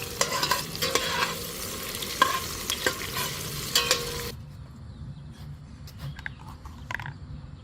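Onions browning in hot oil in a pan for fish curry: dense sizzling with spoon-stirring scrapes for about four seconds, then the frying drops to a quieter crackle.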